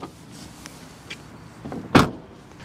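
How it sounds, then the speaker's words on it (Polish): MG 3 hatchback's tailgate, a 2025 petrol 1.5 model, giving soft mechanical rustles and a latch click, then one sharp, fairly close thud as it shuts. "dla mnie najbardziej budżetowy element całego pojazdu to jest odgłos, z jakim otwiera się i zamyka się klapa bagażnika"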